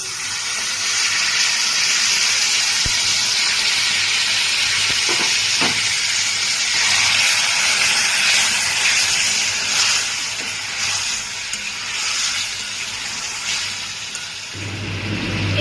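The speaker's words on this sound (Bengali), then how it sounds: "অল্প করে জল দিয়ে দিচ্ছি" Water poured into a pan of frying egg curry hisses and sizzles loudly and steadily, a dense steamy crackle that holds for the whole stretch, easing slightly toward the end.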